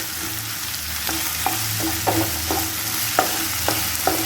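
Tomatoes fry in a pan with a steady sizzle, while a spatula scrapes and stirs in periodic strokes about every half second; close and moderately loud, with no talking.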